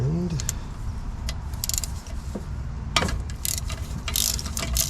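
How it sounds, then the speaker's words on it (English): A ratchet turns a socket on a nut while work is done on an XJ6's XK6 engine, giving several loud, close metallic clicks and ratcheting bursts that are spread unevenly across the clip, with no talking. "And I'll get the ratchet"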